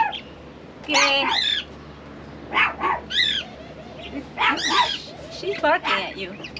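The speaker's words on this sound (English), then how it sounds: "She's barking at you." A dog in a garden gives several sharp, high barks and yips in uneven bursts, close and loud, with short pauses between them.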